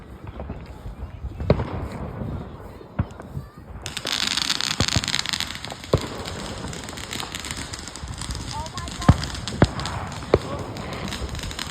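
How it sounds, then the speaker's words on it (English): Fireworks go off on bonfire night, with sharp cracks and bangs at irregular intervals, some near and loud, over outdoor crowd noise and a crackling, fizzing rush; people talk in the background. "They're setting that firework there."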